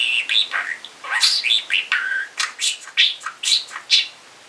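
A talking parakeet chirping and twittering close by in rapid, repeated bright bursts with short pauses between them, loud and clear, with no human voice.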